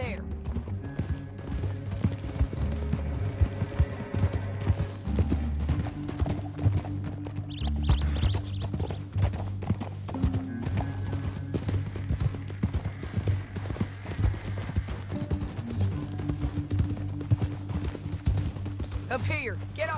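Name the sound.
horse hooves clip-clopping, from Red Dead Redemption 2 video game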